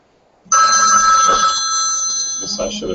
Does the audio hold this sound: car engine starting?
no